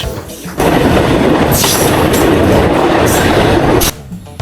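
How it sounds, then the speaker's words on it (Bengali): A packed shuttle train pulling into Khoksa station on the Rajbari–Kushtia line, a loud, steady roaring rumble that swells in after a quieter start and runs on before dropping away near the end. "কানায় কানায় পরিপূর্ণ ট্রেন চলে আসছে খোকসা"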